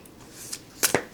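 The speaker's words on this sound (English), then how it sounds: "Ooh, overhand shuffling feels nice." Thick, hefty tarot cards being shuffled overhand, heard as a few quick soft slaps and ruffles close by, two sharper bursts near the end.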